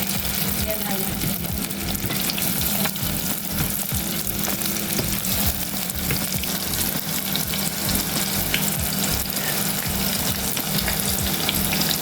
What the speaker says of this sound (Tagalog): Mainit na yung ating kawali. Ayan mga kaabe. Mainit na mantika natin.